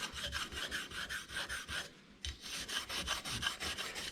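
Rhythmic back-and-forth scrubbing of a Scotch-Brite pad on metal of a 1951 Chevy heater part, quick regular strokes close up, pausing briefly before resuming.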